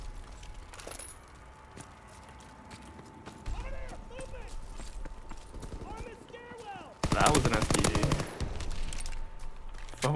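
StG assault rifle fire in Call of Duty WWII, distant shots and clatter early on, then a loud rapid automatic burst lasting about a second and a half, with talk running through the clip.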